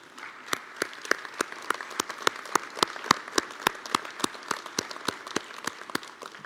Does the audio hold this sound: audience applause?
yes